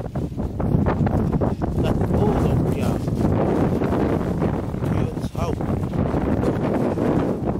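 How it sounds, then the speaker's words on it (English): Gusty outdoor wind buffets the microphone with rough, continuous rumbling while several people talk casually over it. "Windy."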